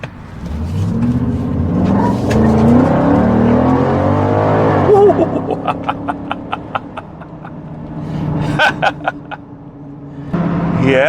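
A BMW E70 X5 V8 drives through a mall car park, a loud steady engine drone that rises under acceleration and eases off, with people talking inside the car over it.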